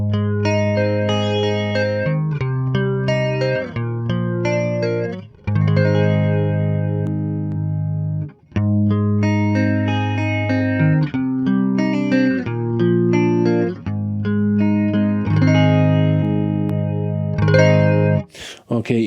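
An electric guitar runs through a mono flanger pedal, strumming loud, rhythmic chords with a sweeping, swirling modulation. The phrases are broken by brief pauses and carry on steadily for nearly twenty seconds.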